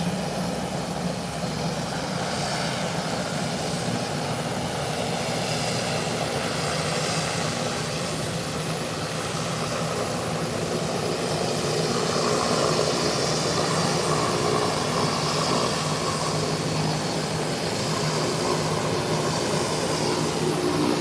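A Beechcraft-type airliner's engines run steadily at the runway threshold after a 180-degree turn, a continuous droning roar at moderate distance, holding even in level with no talk.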